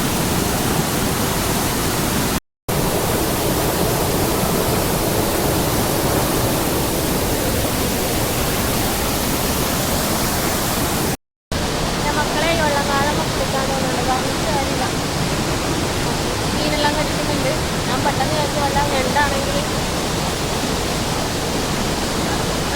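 A waterfall at Irikkur roars in a loud, unbroken wash of white noise, close and dominant, with two brief dropouts and faint voices or birdlike chirps surfacing in the second half.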